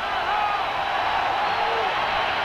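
Steady roar of a stadium crowd at a 1992 Georgia at Arkansas college football game, a dense continuous wash of cheering with faint voices mixed in.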